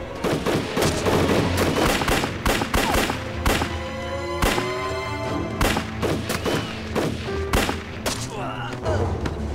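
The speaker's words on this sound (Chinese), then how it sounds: "我现在就枪毙你" Repeated loud gunshots and bursts of gunfire crack through a noisy war drama battle scene, close and overlapping with booms, shouting and people talking throughout.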